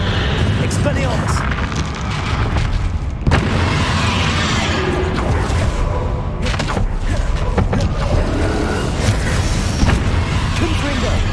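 Spell explosions from the Hogwarts Legacy video game, a continuous barrage of booming blasts and thuds layered over one another, loud and dense, with a voice shouting spell names throughout.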